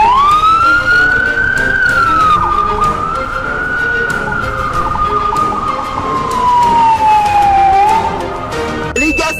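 A wailing ambulance siren rises and falls slowly, loud and close, sweeping up and down over the drone of traffic.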